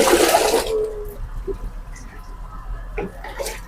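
Liquid ingredients slosh and gush loudly in a Rajasthan family workshop for about half a second, followed by quiet background with faint knocks and scattered small sounds.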